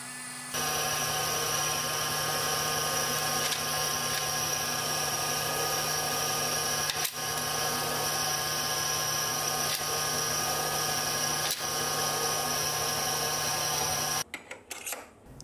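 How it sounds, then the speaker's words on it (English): A metal lathe cutting steadily with a fresh carbide insert: a continuous, even machining whine with a strong constant tone, loud and close, running unbroken for about fourteen seconds before stopping. "you can really tell how much better the new insert is cutting"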